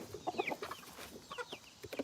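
Backyard chickens clucking close by, a rooster and a hen, with a run of short, irregular clucks and squawks scattered over a quiet morning yard.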